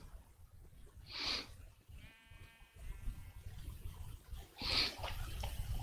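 Sheep in a Minecraft pen give two separate bleats a few seconds apart, fairly close, with a faint steady tone in between.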